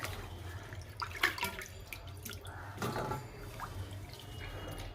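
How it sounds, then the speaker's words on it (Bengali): Radish greens lifted out of a basin of second rinse water, with trickling, dripping water and soft splashes, a couple of louder splashy moments, over a steady low hum. "তো চলো আমি শাকটা এটা তুলে নিই জল থেকে"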